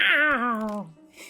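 A single long, falling meow voiced by a man imitating a cat, close and alone, trailing off into a faint breathy sound.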